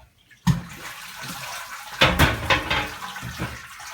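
Home brew liquid pouring and splashing as a grain basket is lifted and drained, starting with a sudden gush and then running and trickling in uneven bursts nearby.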